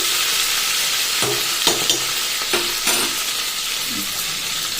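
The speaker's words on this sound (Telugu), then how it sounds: "ఉల్లిగడ్డ, పచ్చిమిరపకాయలు నూనెలో కొంచెం వేగాలి" Onions and green chillies frying in oil for a fish curry make a steady, close hiss, with several sharp scrapes of a spoon stirring through the pan.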